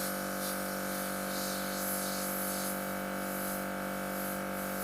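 An airbrush fed by a compressor sprays paint with a steady close hiss over the compressor's constant tonal hum, which carries on without a break.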